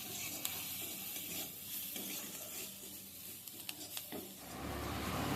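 A spice mixture of coriander and cumin powder is stirred and fried in a pan, giving soft sizzling with scraping and tapping spoon strokes, close and fairly quiet.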